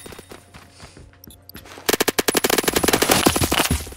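Rapid gunfire from a gun in the Roblox video game, a quick burst of sharp automatic shots following a few scattered lighter clicks and taps at the start.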